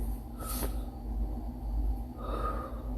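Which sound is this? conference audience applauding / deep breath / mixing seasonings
deep breath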